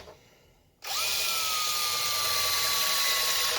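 A battery power drill drilling out a hole to 3/16 inch whines steadily at high speed for a few seconds after a quiet start, loud and close, its pitch holding nearly constant.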